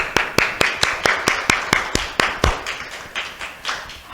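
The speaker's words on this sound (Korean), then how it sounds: "이렇게 우리에게 모일 때마다 복음을 들려주신 주님께 감사의 박수를 한번 드리겠습니다." A church congregation claps together in thanks, a steady run of sharp, fairly close claps in even rhythm that thins out and turns ragged toward the end, with no talking over it.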